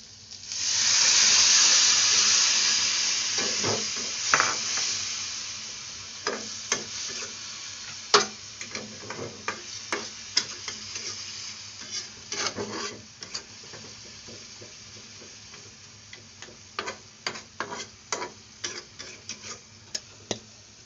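Onions and spices for egg curry sizzle in a pan, loud at first and then settling into a quieter fry broken by frequent sharp stirring clicks and scrapes.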